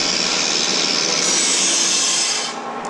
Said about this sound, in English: let's drill a 1/4 inch hole